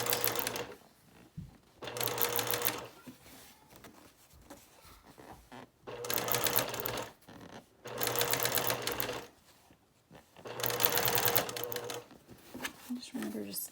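A sewing machine stitching a quilt runs in four bursts of rapid mechanical chatter, each a couple of seconds long, with quieter pauses between them while the fabric is turned.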